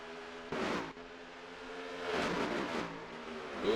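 Stock car engine in a racing video game at Homestead, a buzzing roar that swells in, fades, then builds again with a rising whine, heard alone at moderate level.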